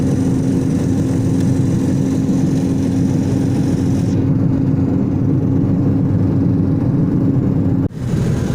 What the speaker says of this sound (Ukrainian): Машина наша їде, бачите?